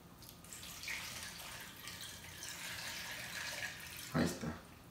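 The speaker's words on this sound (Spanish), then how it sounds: "Le vamos a echar agua." Water runs from a tap into a cooking pot for sweet potatoes, a steady hiss with a brief louder gush near the end.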